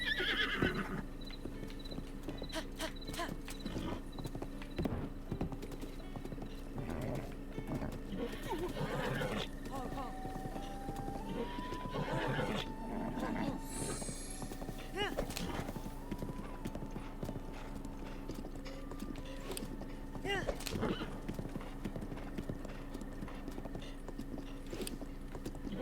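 Horse hooves clip-clopping at a gallop in Zelda: Breath of the Wild, a steady drumming rhythm with occasional neighs and whinnies, layered over in-game background sound and ongoing speech.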